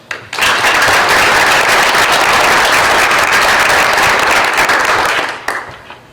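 Loud, dense applause from the audience at a school board of education meeting honoring a retiring staff member starts abruptly, holds steady for about five seconds, then tapers off.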